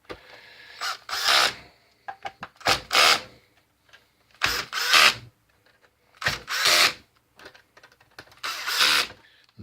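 A power drill drives screws into a Polyvision PJ905 DLP projector during a repair, with about six short whirring bursts separated by brief pauses and quiet clicks, close and fairly loud.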